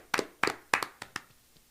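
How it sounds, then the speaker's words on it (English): A few scattered hand claps on a live talk show, about five sharp claps in an uneven rhythm that thin out and fade within two seconds, fairly close and alone without talk. "Clap it up."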